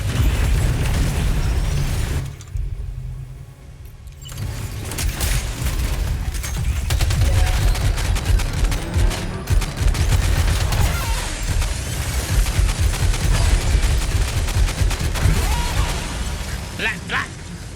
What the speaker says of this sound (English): machine gun!